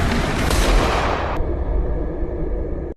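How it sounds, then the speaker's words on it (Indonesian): Gunfire in an Indonesian action film, a loud dense burst of shots and booms that cuts off sharply partway through, followed by a quieter rumbling tail before silence. "muncullah si Yadi yang bikin rusuh dengan pistol di tangannya"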